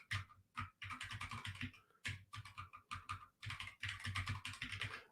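Keys clatter on a computer keyboard in quick, close bursts of rapid keystrokes, separated by brief pauses.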